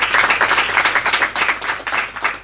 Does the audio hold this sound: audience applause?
yes